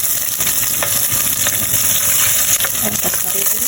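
Onion hits hot oil already seasoned with mixed spice and dried chilies, giving a steady, bright sizzle with occasional stirring clicks. The frying is close and continuous, with no voices.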